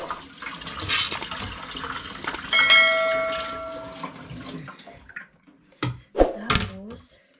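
Fresh ginger root is rinsed under a running kitchen tap, giving a soft spattering stream of water. A brief clatter and a voice follow at the end.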